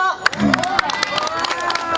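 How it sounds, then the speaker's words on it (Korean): Festival crowd at a neighborhood village festival community-center singing class performance, applauding and cheering in a brief burst, with bright sharp claps over crowd babble and a voice ringing through the mix. "박수 부탁드립니다"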